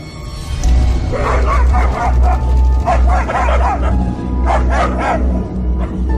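A person's voice imitates a dog barking, with repeated loud yelping, bow-wow calls over a low, constant rumble.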